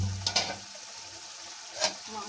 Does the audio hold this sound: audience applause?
no